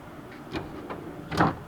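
A tool box drawer slides open with a short rolling rattle, followed by a brief metallic clunk as it reaches full extension.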